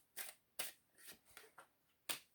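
Playing cards are snapped and slapped down one after another during a card reading, six or so crisp close flicks at an uneven pace in an otherwise quiet room.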